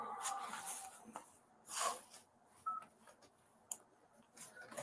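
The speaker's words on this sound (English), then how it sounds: "My phone's going off." A mobile phone going off with a series of short electronic tones and beeps, scattered and fairly faint, with no voices over them.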